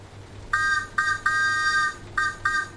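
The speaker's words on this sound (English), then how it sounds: "Love the whistle." Whistle of a Class 484 electric train on the Isle of Wight line, heard as several short and one longer bright tonal blasts in a stop-start pattern, fairly clear over a low background hum.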